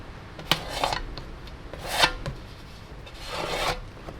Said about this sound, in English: what I usually do is scrape up some of my mess